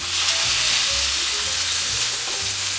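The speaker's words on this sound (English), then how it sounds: "So we're going to place our 3 pieces of the steak inside the pan." Three pieces of steak fry in a smoking-hot pan with a little olive oil, giving a loud, steady, close sizzle that runs throughout with no talking.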